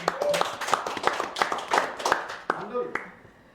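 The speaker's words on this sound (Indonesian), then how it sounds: "Oke, tepuk tangan lagi dong." Audience clapping at a BPJS Ketenagakerjaan information event, a run of scattered, uneven hand claps mixed with voices talking over them.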